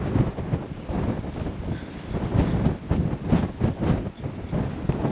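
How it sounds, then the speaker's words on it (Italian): Icy, gusty wind in Bulgaria roars and buffets the microphone in uneven surges, loud and rough throughout. "Come potete sentire tira un bel vento ghiacciato"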